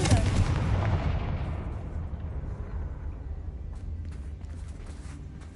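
A Confringo fire spell in Hogwarts Legacy erupts in a loud, booming blast that rolls into a long, fading rumble of debris and crackle lasting several seconds, heard alone without talking.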